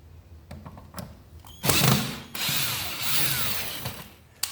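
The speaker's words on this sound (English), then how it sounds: "now I can back out the one that's screwed into the stringer" Power drill backing a screw out of a roof stringer during a shingle roof soft-spot repair, a short whir then two longer loud drill runs between faint knocks, close by.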